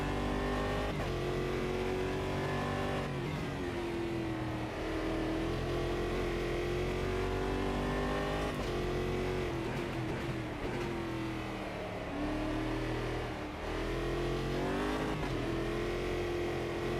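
Simulated race car engine in the racing game Automobilista, revving continuously with rising and falling pitch as it accelerates and drops RPM under braking, loud and steady throughout.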